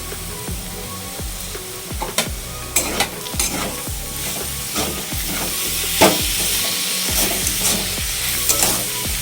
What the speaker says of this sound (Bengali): আবারও হাই ফ্লেমে আমি 2 মিনিটের মতন একটু ভাজা ভাজা করে নেব।